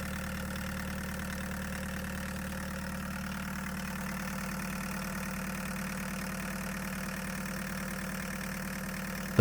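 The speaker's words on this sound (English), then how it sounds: "I do have a rattle coming from this loose bracket" A diesel engine swapped into a Chevy S10 pickup idles steadily up close, its low even drone carrying a faint rattle from a loose bracket, with a sharp knock right at the end.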